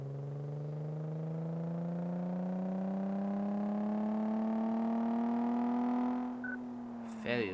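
A car engine in the video game Car Mechanic Simulator 2014 drones steadily during a test drive, its pitch climbing slowly as it accelerates, then easing off near the end, fairly loud and alone.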